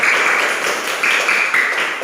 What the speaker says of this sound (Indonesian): Baik, tepuk tangan buat kawannya